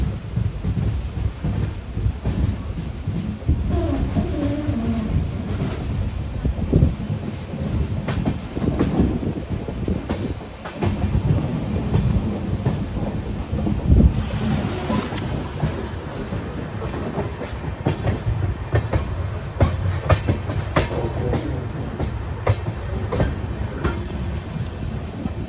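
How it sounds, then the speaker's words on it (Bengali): Shantiniketan Express 12337 pulls into Bolpur Shantiniketan railway station, with a steady, loud rolling rumble and rhythmic wheel clatter that persists for the whole stretch, heard close with no voices. "আমাদের ট্রেন প্রবেশ করছে বোলপুর শান্তিনিকেতন রেলওয়ে স্টেশনে"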